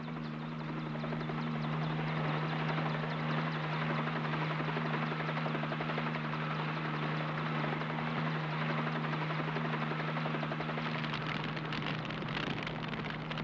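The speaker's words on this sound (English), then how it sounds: "Right, Corey. Helicopter one cleared." A helicopter's steady, loud rotor drone and engine hum fill the whole stretch, constant and close, with a slight shift near the end.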